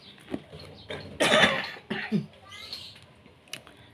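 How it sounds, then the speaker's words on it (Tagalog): A woman coughs several times in short bursts with a throat-clearing sound, close and fairly quiet, in a still indoor setting with faint background noise. "may konting ubo-ubo pa rin"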